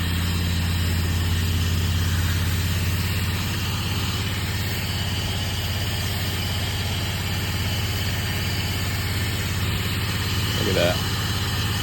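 A pressure washer's engine runs throttled down, a steady low droning hum that continues throughout, with someone speaking briefly over it.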